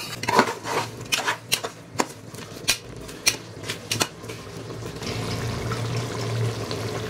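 A few clicks and clatters, then a steady stream of about a cup of water poured into a pot, running continuously near the microphone.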